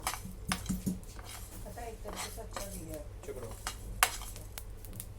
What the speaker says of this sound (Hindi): 1 टेबलस्पून साबुत सौंफ, 1 टीस्पून मेथी दाना, आधा टेबलस्पून साबुत जीरा लेकर इन्हें पैन में सूखा भूनते हैं।